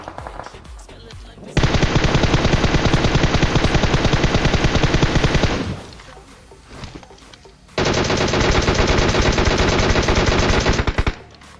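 Sustained automatic gunfire from the mobile battle royale game PUBG Mobile, two long loud bursts separated by a brief lull with scattered shots, close and dominant with no talk.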